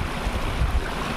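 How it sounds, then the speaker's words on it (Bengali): Cold mountain water rushing along a steep trail near Kedarnath, a dense, continuous close-up roar with no voices over it. "পাহাড়ের জল"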